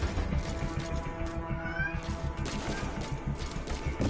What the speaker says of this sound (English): But they just keep meowing like that.